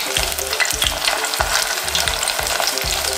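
Breaded chicken breast frying in a pan of oil, coated with a cheese-containing breading, giving a steady, loud, close sizzle with faint stirring or scraping clicks underneath and no talking.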